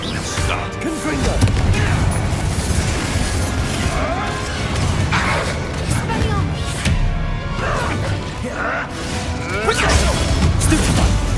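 Confringo fire spells explode repeatedly in a Hogwarts Legacy battle, with loud crashing blasts and whooshes layered over constant combat noise. Voices sound intermittently through the din.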